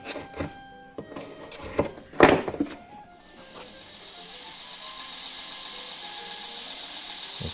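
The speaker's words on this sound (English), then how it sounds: "I'm just cutting off a little excess because when I reach down to draw this blade, I don't want to grab a handful of leather" A blade trims excess leather off a handmade knife sheath in a few short, scraping cuts, the loudest near the middle. A steady hiss then rises and holds to the end. Nobody talks.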